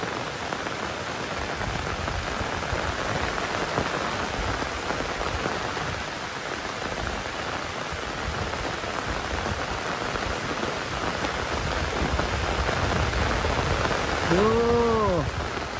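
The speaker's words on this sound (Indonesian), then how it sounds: "hujan lebat, sahabat." Heavy rain pours steadily on surfaces in a rural village, a loud, dense downpour throughout with a brief ringing tone near the end.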